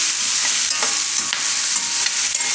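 Capsicum cooks in a hot pan under a loud, continuous sizzle while a spoon stirs through it now and then, giving soft scraping strokes in the hiss.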